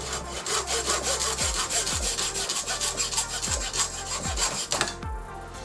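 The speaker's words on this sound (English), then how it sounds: "Just grab the hacksaw, make sure I'm staying in line, using the vise as essentially a straight line to go against." A hacksaw cuts through a hose clamped in a vise, with steady back-and-forth rasping strokes about once a second, close and fairly loud, and no voices.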